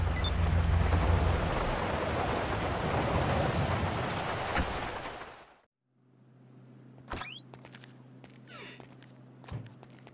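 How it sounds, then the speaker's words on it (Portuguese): Rain pours steadily in the video game GTA V Online for about five seconds, then cuts off abruptly, leaving a quiet hum broken by a couple of short sharp bursts. "Quem sabe essa chuva passa aí."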